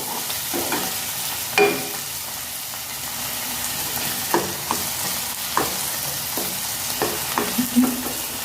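Tomatoes being stirred in a sizzling frying pan for egg bhurji, with a steady hiss of frying and irregular scraping clinks of the spoon against the pan, close and fairly loud, with no talk.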